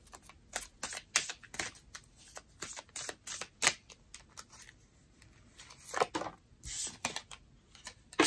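Tarot cards shuffled by hand for a reading, giving soft, close flurries of riffling and slapping in uneven bursts with no speech.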